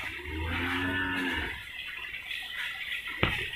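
In a cattle shed housing cows affected by lumpy skin disease, one cow gives a single long, close moo. A quiet stretch with faint rustling follows, broken by one sharp click near the end.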